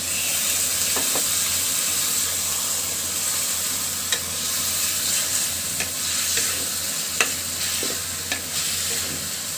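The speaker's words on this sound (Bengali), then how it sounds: "এখন আমি দিয়ে দিচ্ছি এর ভিতরে ধুয়ে রাখা মাংস এবং আলু।" Beef and potatoes hit hot spiced oil and are stirred, producing a constant, bright sizzle with irregular clinks and scrapes of the spoon against the pot, with no voices.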